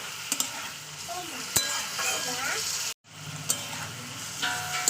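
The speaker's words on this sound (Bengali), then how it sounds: "আদা রসুনটা দেওয়ার পরে আবার একটু মাংসের সঙ্গে কষিয়ে নিতে হবে" Meat sautéing with ginger-garlic paste in a pan, a continuous close sizzle broken by spatula scrapes and clicks, with a brief total dropout midway before the frying resumes.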